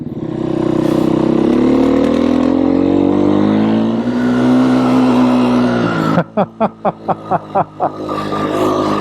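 Beta 390 RS Racer off-road motorcycle engine, close and loud, revving and pulling away steadily for several seconds, then breaking into a rapid series of sharp choppy bursts as the throttle blips.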